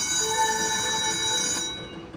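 A FOBT slot machine game rings a steady electronic bell tone, a sustained bright chiming ring that holds for about two seconds before cutting off.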